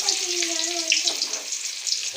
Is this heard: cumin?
yes